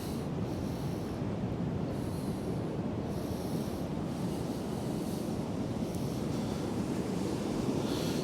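Sea waves wash over a clay beach beneath the eroding cliffs at Happisburgh, a constant low roar of surf mixed with wind buffeting the microphone, with no speech.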